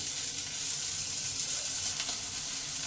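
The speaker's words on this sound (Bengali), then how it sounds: "টমেটোটা কুচানো আছে এটা দিয়ে দিই।" Chopped tomatoes hitting a pan of fried onions for chutney, giving a dense, steady, close sizzle that stays level throughout, with no voices.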